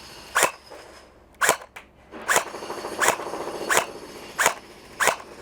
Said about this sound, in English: I'm gonna take a couple of shots with it downrange. So it's on semi right now.